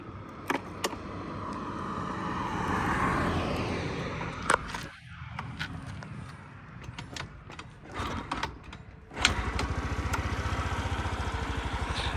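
Clicks and mechanical handling, then a 2019 Suzuki Address 125 (DT11A) scooter engine cranks, catches, and settles into a steady, fairly quiet idle.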